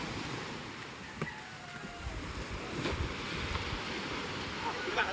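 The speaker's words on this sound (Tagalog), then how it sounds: "Pagka yun inaabot ng alon, lakas pa ng mga baksak ng mga alon." Sea waves surging and crashing near moored boats along a shore during high water, a steady rough wash with wind noise and occasional louder splashes.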